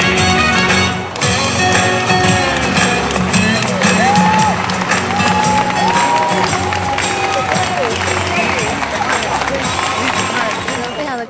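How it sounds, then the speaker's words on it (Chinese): Audience at a Buddha's Birthday evening show in Brisbane, Australia, applauding warmly and without pause, a loud, dense wash of clapping and crowd noise mixed with music and voices throughout. "即兴逗趣的演出让现场观众报以热烈掌声，久久不能间断"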